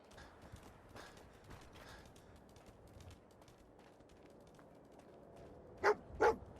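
A dog in the Fallout 4 video game gives two sharp barks near the end over quiet creaking ambience, close and distinct.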